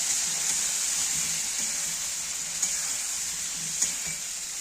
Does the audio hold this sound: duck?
no